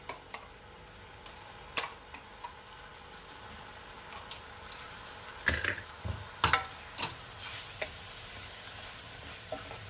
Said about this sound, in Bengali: এটাকে আমি একটু ভালো করে লো ফ্লেমে আমি এটাকে কষে নিয়ে ফিরে আসছি